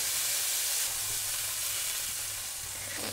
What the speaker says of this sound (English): our meat is just about finished browning